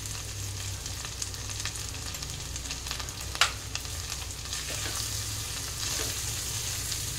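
Chilli, cumin and turmeric powders fry in a pan, a soft continuous sizzle with occasional light stirring scrapes and one sharp knock near the middle, close but fairly quiet under a low hum.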